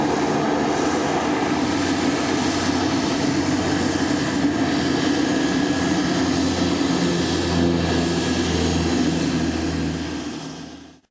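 Steady, loud drone of a Pilatus aircraft's PT6-67B 1600-horsepower turboprop driving a four-bladed, full-feathering Hartzell propeller, a continuous broadband roar with a low hum running unbroken before easing off at the very end.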